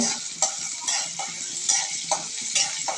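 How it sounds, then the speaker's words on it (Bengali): Steady sizzle of hot oil with chopped onion in a pan as a spoon or spatula stirs, scraping clicks recurring every half second or so, close and clear with no talking. "তেল গরম করে নিচ্ছে নড়াচড়া করছে সুন্দর করে নাড়া ছাড়া করে নিচ্ছে"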